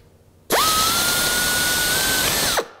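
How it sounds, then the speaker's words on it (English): A number 40 drill bit bores through metal while installing nutplates, a steady high-pitched whine that spins up sharply, holds loud and even for about two seconds, then winds down alone. "we're going to take that number 40 drill"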